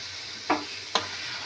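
Halwa frying in a pan is stirred with two quick scraping strokes of a spatula over a soft continuous sizzle, close and fairly quiet.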